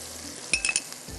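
Ginger garlic paste and ground garam masala frying in a pan for a Kashmiri chicken masala, a soft sizzle under a few quick, bright metal clinks of a spoon against the pan.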